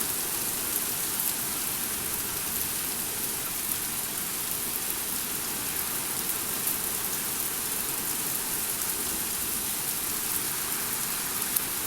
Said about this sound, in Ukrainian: Файний дощик на гарні молоденькі бур'янці.